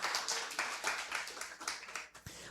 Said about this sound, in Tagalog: Pwede ba isa muna malakas sa palakpak sa Bible dyan?